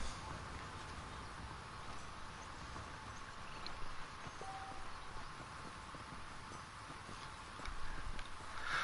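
Steady clip-clop of horse hooves walking at an even pace in Red Dead Redemption over a constant background bed of ambient noise, with no talking.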